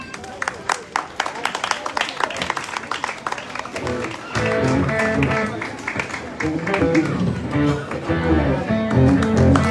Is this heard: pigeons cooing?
no